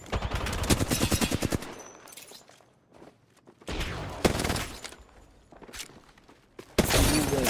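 Video game gunfire in a shootout: rapid bursts of automatic shots and single cracks with sharp, shattering impacts, loud and close, separated by brief lulls, with no talking.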